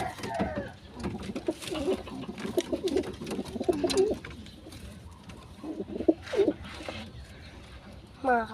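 Pigeons in the Philippines coo in repeated soft, throaty bursts close by, several calls spaced through the stretch, alongside talking voices and other small background noises.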